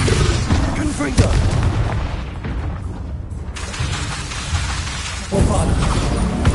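Confringo blasting-curse explosions in Hogwarts Legacy on PS5 land as repeated loud booms with crackling debris, one sharp blast early, a dip into quieter rumble, then another heavy burst near the end, amid dense battle noise.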